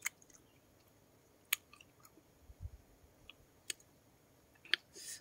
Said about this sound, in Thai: วันนี้กินมะขาม